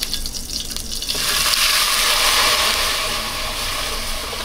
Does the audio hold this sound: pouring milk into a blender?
yes